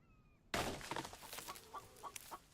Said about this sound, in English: I hear you, chicken